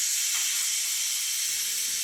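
Steady loud steam hiss of a pressure cooker venting on a gas stove while cooking squid, continuing without pause; a faint low rumble joins partway through.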